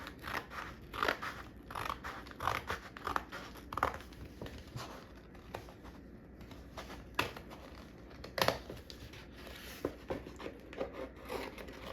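Scissors snip through material while making inexpensive holiday wall art, giving a series of close, crisp cuts in uneven bursts with short pauses between them.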